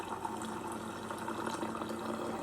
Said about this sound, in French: Donc là, on appuie normalement pour rincer le filtre.